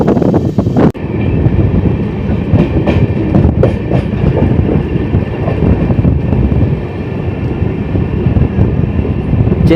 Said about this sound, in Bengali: সামনে থেকে আসছে MGR চেন্নাই থেকে শালিমার করমণ্ডল এক্সপ্রেস।